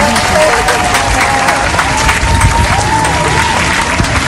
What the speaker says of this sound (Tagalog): Palakpak ka naman.